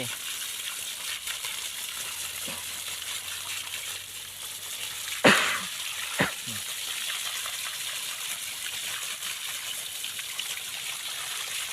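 Steady hose spray washing old soil off the roots of a desert rose (Chuan Chom) plant during repotting, a continuous broadband hiss with a couple of brief splashy knocks midway.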